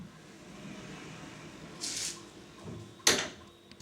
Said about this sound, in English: This is a sliding door put up by Booker and Best